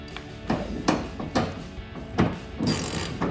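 Ratchet tool clicking as a bolt is tightened on a Toyota Tacoma headlight, with repeated sharp ratcheting strokes at an uneven rhythm, close and moderately quiet.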